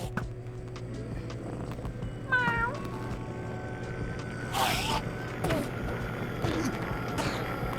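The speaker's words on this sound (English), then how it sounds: "My cat's meowing, guys." A pet cat named Salem meows a few short times in a room, its calls rising above steady low background hum and game noise.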